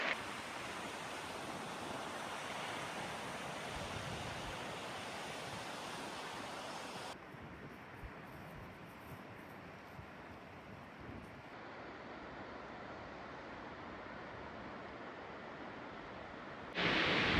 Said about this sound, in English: just walking alongside a beautiful little brook